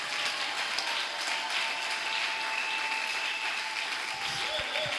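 A church congregation applauds steadily and fairly close, a dense even wash of clapping that carries on without a break.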